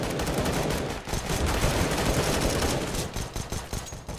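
Sustained gunfire in Counter-Strike: Global Offensive, a dense, loud, continuous burst of rapid shots filling the whole stretch with no talk over it.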